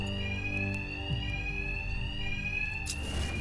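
A bank alarm rings continuously in Batman: Arkham Knight, a steady high electronic tone with harmonic bands over a low background rumble, loud and unbroken before a sharp noisy burst near the end.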